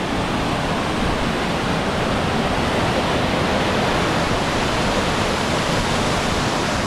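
Wahkeena Falls in the Columbia River Gorge, a loud, dense, unbroken roar of falling water filling the whole clip evenly from close by, with no talk.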